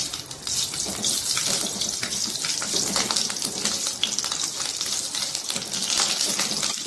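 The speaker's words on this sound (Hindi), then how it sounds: "हरी मिर्चों को थोड़ी देर के लिए फ्राई कर लेना है।" Green chilies frying in hot oil, a continuous bright crackling sizzle with dense popping, steady and close throughout with no voices.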